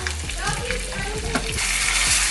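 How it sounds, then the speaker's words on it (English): Chicken broth poured into a hot pan of browning potatoes sets off a loud, steady sizzle and bubbling hiss, close up and continuous, with faint stirring scrapes and no talking. "I got my chicken broth ready here. I'm gonna add that."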